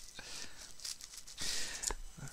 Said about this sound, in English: Get the scissors again.